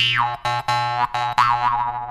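Repeated twangy jaw harp notes with a buzzing, wah-like pitch sweep, played in short bursts with brief gaps, close and fairly loud; a small miniature jaw harp.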